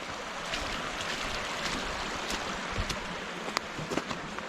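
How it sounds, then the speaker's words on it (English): Splashing and rushing water fill a stream crossing on a backpacking hike in Tioga State Forest, a continuous close wash of flowing water with scattered sharper splashes near the end. "One last water crossing."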